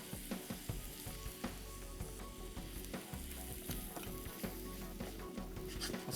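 Goat curry with lime leaves and lemongrass frying in a pan, a steady soft sizzle with small crackles and occasional stirring scrapes, close but quiet.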